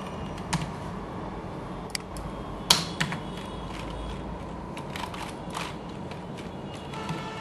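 Keys clack on a computer keyboard while keywords for home cleaning services are entered into an Excel sheet, scattered irregular taps with one sharper louder strike, close and fairly quiet over a steady room hum, no voices.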